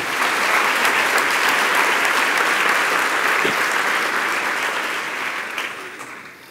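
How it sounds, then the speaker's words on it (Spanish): A church congregation bursts into loud, dense applause that sustains for several seconds, then gradually thins and fades toward the end. "Y denle un aplauso a Dios con todo su corazón"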